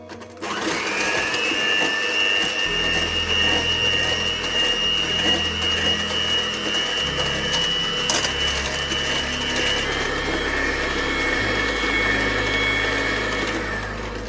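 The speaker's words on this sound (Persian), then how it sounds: "با میکسر انقدر میزنیم تا شکر حل بشه" An electric hand mixer whirs steadily while beating warmed milk with sugar for a chocolate cake, a loud continuous motor whine with slight shifts in pitch and load, close up and with no voices.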